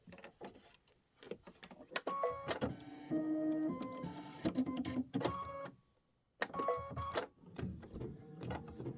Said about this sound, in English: Now we are stitching out the corn husk fill.